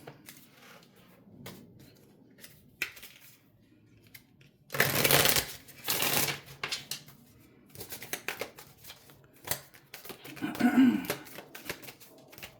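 Tarot cards are shuffled in two brisk riffling bursts, then dealt with soft slaps and taps onto a surface, with a woman murmuring quietly between.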